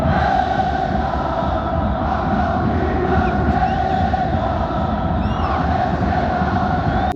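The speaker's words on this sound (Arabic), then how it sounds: "في الميطان الثاني المطر تقوى معاها شنعة الجمهور والضغط متاع الكلوب" Dense, steady stadium crowd roar at a football match between Club Africain and Étoile du Sahel in heavy rain, loud and continuous with a broad wash of noise.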